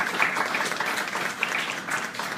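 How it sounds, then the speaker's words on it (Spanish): An audience at an academic book presentation gives steady, moderately faint applause, a dense wash of many clapping hands sustained throughout. "Démosle un aplauso"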